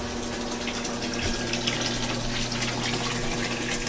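A Jebo DC 12000 pump runs in the filtration room of a 500-gallon saltwater aquarium, giving a steady close rush of moving water with a constant low hum underneath.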